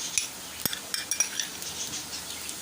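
Garlic paste is stirred into softened onions in a cooking pan, with repeated metallic clinks and scrapes of a spoon against the pan over a faint background sizzle.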